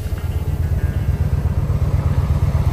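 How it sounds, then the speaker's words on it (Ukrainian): A motorcycle idles nearby with a steady, rhythmic low chugging pulse that stays even throughout, with no voices over it. "Друзі, що скажете за такі мотоцикли?"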